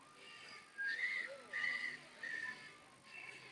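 Birds call from high in a tree at Disney's Animal Kingdom in the morning, a series of four clear, sustained whistled notes at moderate distance against a faint outdoor hum.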